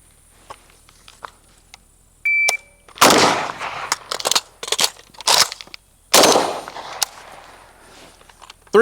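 An AK rifle reload with the magazine, a run of sharp metallic clacks and rattling clunks in quick bursts, with a timer beep and loud close impacts against near silence.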